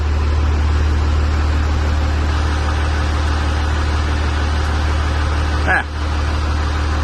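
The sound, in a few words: Cummins-swapped Sweptline truck diesel engine running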